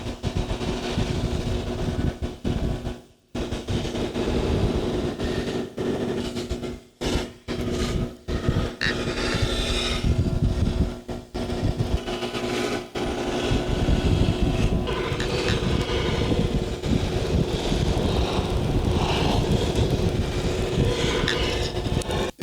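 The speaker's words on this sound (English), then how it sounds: "Now we're moving over to the fine compound wheel, which will give a good high gloss polish on it." A fine compound buffing wheel whirs steadily against an electric guitar body as it is polished. The sustained, broadband grinding rush dips briefly a few times where the body is lifted or shifted against the wheel.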